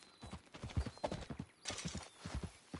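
Horse hooves clip-clop in a steady, fairly quick walking rhythm in the Western video game Red Dead Redemption 2, close and moderately quiet, alone without speech.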